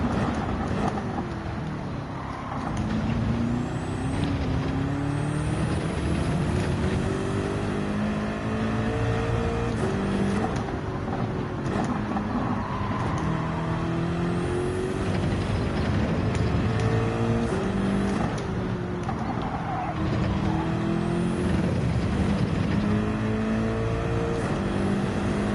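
A race car engine in Gran Turismo 7 drones and revs continuously at high pitch, repeatedly climbing through gears and bouncing off the rev limiter, loud and sustained throughout.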